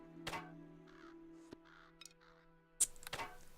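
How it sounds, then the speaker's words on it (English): Crows caw and scatter into flight on a frozen battlefield in Neverwinter Nights, giving a few harsh, separate calls over a low steady hum, fairly faint, with one sharp knock in the middle. "The gong's call echoes across the frozen battlefield, startling the gathered crows to flight."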